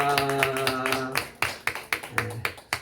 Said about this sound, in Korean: 박수로 영광을 돌릴까요?